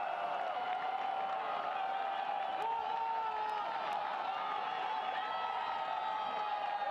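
Stadium crowd at a soccer match between Phoenix Rising FC and Portland Timbers 2 rising into a sustained, swelling roar of cheers and whoops, distant and dense, with a few sharp whistles cutting through.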